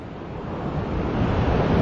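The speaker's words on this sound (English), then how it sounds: "Now we've got a really wide beach now." Steady wash of surf on a very wide beach, a continuous rushing roar with wind buffeting the microphone, close and fairly loud with no talk.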